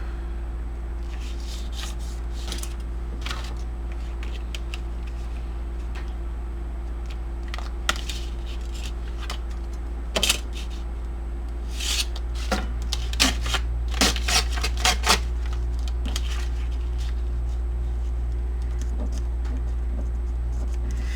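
Pieces of paper being ripped by hand in short bursts, sparse at first then a quicker cluster of tears, close, over a steady low hum.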